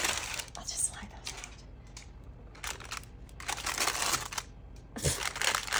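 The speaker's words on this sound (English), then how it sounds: "My parchment's ripping." Parchment paper crinkles and tears beneath a freshly baked sourdough loaf in bursts of dry rustling and ripping, with a voice whispering and talking quietly in between.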